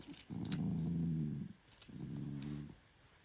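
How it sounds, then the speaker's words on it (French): A dog growls low and close in two sustained rumbles, the first longer, separated by a brief pause, with no talking over it. "Mais il grogne."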